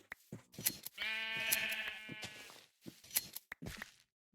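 Blocky farm sheep in Minecraft bleat while being sheared, a long wavering bleat in the middle with shorter clipped bleats and snipping clicks around it, close and clear with no talking.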